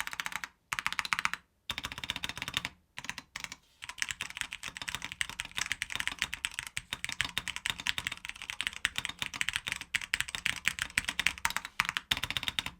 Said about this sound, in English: let me give you a quick listen to this keyboard here.